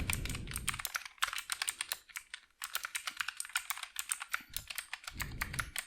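Rapid, close typing on a computer keyboard while writing HTML. Crisp, irregular key clicks run in dense flurries with a short pause midway.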